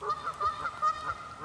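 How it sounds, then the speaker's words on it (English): Geese honk as they fly off from the water's edge, a series of about six short, nasal calls in an irregular rhythm, moderately distant and faint over quiet outdoor ambience. "And there are geese flying off."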